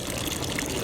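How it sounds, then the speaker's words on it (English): Water gushes steadily from a Nasone public drinking fountain spigot in Rome into a water bottle, a continuous close splashing rush with no voices. "It's really kind of cool as you fill your water bottle here."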